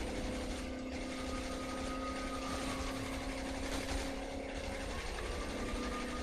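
A helicopter in the video game Saints Row: The Third chops steadily with a whirring mechanical drone, loud and continuous throughout, with no voices.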